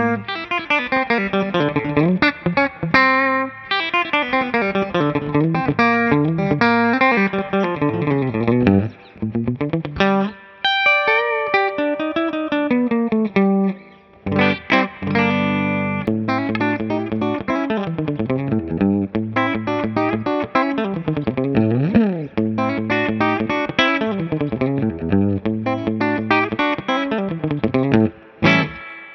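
A Telecaster-style electric guitar, a Suhr Classic T, plays quick, twangy country licks with bends and runs, bright and up front, with short pauses between phrases.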